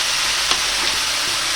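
Crabs fry in hot oil in a kadai with a loud, continuous sizzle and a brief stirring clatter, with no voices.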